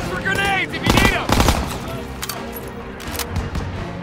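Machine gun fire in the World War II shooter Call of Duty WWII, rapid loud bursts amid battlefield noise, with a soldier's voice shouting over the fire.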